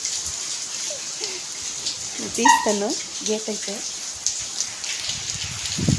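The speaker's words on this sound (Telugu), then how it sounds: "ఫుల్ జోరుగా వస్తా ఉంది ఒక హాఫ్ అన్ అవర్ ఇంకా వస్తూనే ఉంది ఈ వాన" Heavy rain hisses steadily throughout, and someone speaks briefly partway through.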